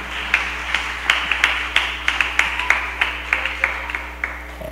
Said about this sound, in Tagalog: Pahina ng pahina yung palakpak natin